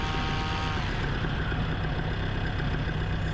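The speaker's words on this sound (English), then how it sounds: "He's doing an engine run-up." A light aircraft performs an engine run-up before takeoff, a loud, steady droning engine roar with a constant low rumble that holds without a break, nearby and alone without talk.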